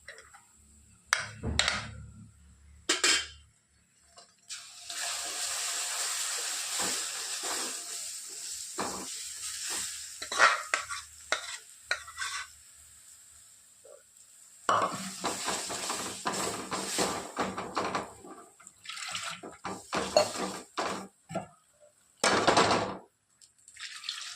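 Besan flour stirred and roasted in a pan for spicy vadi makes intermittent scraping and stirring noises, with a soft sizzling hiss between bursts of utensil scraping at an irregular pace.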